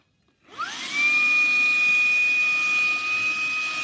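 Bissell vacuum cleaner fitted with a pet hair tool starts up and quickly builds to a steady, loud whine with a high whistling tone, running continuously without talk.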